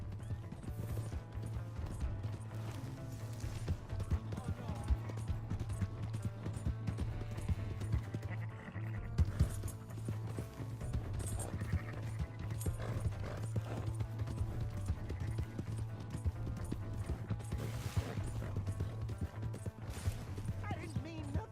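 Horse hooves in Red Dead Redemption 2 clip-clop in a steady, continuous gallop rhythm throughout, close and prominent, with voices talking and shouting over them.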